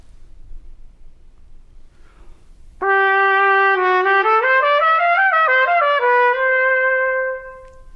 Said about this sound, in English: When you put the mouthpiece into the trumpet,